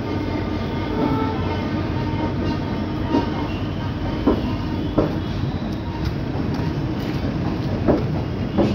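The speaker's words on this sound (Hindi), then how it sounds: "this is the Kathgodam Lucknow express 15:44" Kathgodam–Lucknow Express passenger train, hauled by twin WDP4D diesel locomotives, rolling by at close range with a steady rumbling roar, faint wheel clicks and a few sharp knocks through the passage.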